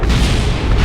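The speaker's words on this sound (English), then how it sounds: "Epic explosions from a few solar panels." Solar panels blowing apart in Kerbal Space Program, heard as a continuous loud, booming explosive rumble with no talk.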